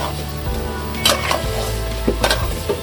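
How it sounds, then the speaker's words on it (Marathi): Rice frying in ghee for a sweet Maharashtrian rice khandvi, a steady sizzle with a low hum beneath and a few scraping stirs of a spoon against the pan. "आता आपण छान परतून घेऊया खरपूस असे चांगलं परतून घेऊया तुपावरती"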